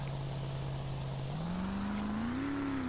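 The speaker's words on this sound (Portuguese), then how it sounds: "Vou pegar essa lancha aqui." A speedboat engine in GTA San Andreas drones steadily, its pitch rising in two steps as it accelerates, a continuous moderately loud hum with no voices.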